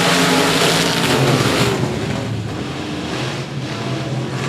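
Race cars roar off together at a green-flag start on the 105 Speedway oval, a dense, loud wall of engine noise that swells at first and then holds steady as the pack accelerates away.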